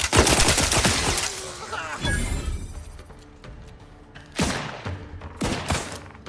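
Video game gunfire in The Outer Worlds 2, with dense rapid bursts of shots and loud impacts, a volley at the start followed by quieter stretches and two more sharp bursts near the end.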